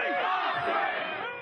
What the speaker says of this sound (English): Crowds shouting in anger and unified chanting.